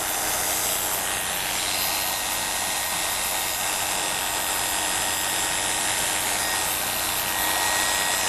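Electric clippers trimming a dog's hair before abdominal surgery, a steady, close, unbroken buzzing hum that holds at an even loudness throughout, with no one talking.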